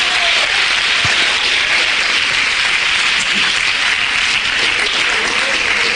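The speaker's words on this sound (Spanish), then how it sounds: "Dele un aplauso fuerte al Señor." A church congregation applauds loudly during a service, a dense, even roar of many hands clapping close and strong throughout, with faint voices mixed into the crowd.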